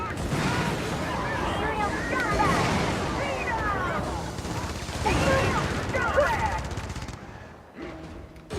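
Incoming gunfire in a video game crackles as dense, continuous bursts and distant booms under a loud rumbling battle ambience, fading out at the end.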